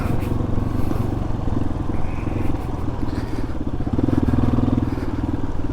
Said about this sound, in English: Figured I'd hop on the old XT250 and just go for a little fire road putt